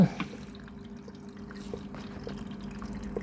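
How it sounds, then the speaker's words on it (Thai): Water trickles and drips into an LG Inverter front-load washing machine that is taking in water too slowly, a weak, steady flow with faint irregular drips and a low background hum, heard close up. "โอ้ มันหยดหยดๆเลยนะ"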